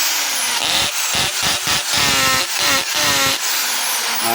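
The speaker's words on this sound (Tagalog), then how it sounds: "Testing lang natin yung hammer." A Stanley SDH600 half-inch hammer drill runs in hammer mode, loud and close, its harsh buzzing whine broken by repeated short dips and restarts as the trigger is pulsed, with no talk over it.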